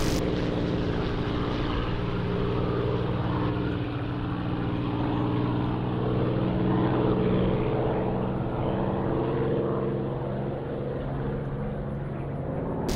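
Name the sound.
Spitfire aircraft engines in DCS flight simulator video game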